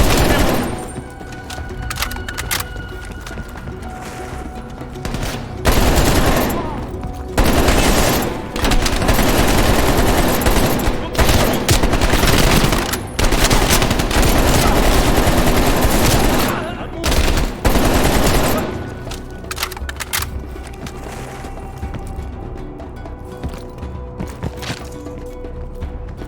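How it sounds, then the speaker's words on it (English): Sustained automatic gunfire and bursts of shooting in the video game Call of Duty: Cold War, loud and dense with brief lulls, with voices shouting underneath. "They're shooting at us!"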